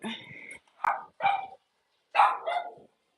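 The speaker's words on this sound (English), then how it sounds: "She's barking at the tag." Cavalier King Charles Spaniel puppy barking indoors, a few short high yappy barks in quick bursts with brief pauses, close and fairly loud, with no talk over them.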